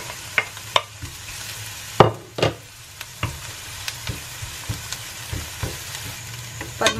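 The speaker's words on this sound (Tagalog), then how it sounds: "medyo mainit na po yung oil natin. Lagyan na natin yung bawang." Chopped garlic drops into hot cooking oil for pancit bihon and sizzles steadily, with sharp bursts and occasional scrapes of stirring over a constant frying hiss.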